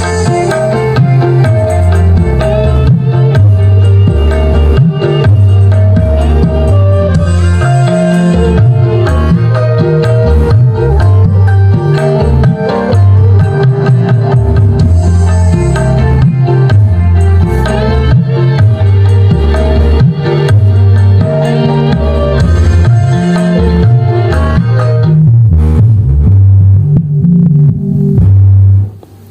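Loud, pounding bass-heavy music plays continuously through a subwoofer with a low-pass filter, a throbbing low end, then cuts off abruptly near the end.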